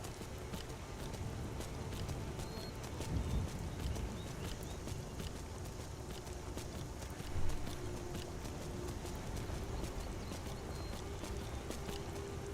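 Horse hooves from riding on horseback in the Skyrim video game: a steady, soft clip-clop of hoofbeats that carries on evenly at moderate distance, with faint background ambience throughout.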